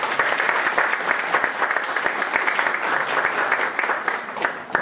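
An audience at a seminar opening session in Recife applauds the opening panel members, with steady, dense clapping at close range, many hands overlapping into a continuous patter that keeps up evenly throughout.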